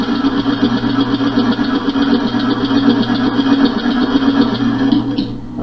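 A homemade compressed-air engine with an oval ring design, fed at about 110 psi, runs with a steady rapid mechanical chatter and hiss, loud and close, then cuts off abruptly at the end.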